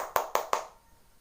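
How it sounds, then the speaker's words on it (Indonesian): Three quick, close claps in an even rhythm, then a fade into quiet room tone, as a classroom gives brief applause for a student group. "beri tepuk tangan untuk kelompok 1"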